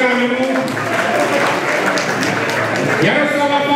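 Steady applause from an audience at a gathering of legendary Czechoslovak motocross world champions, loud and continuous, with a voice speaking over the clapping.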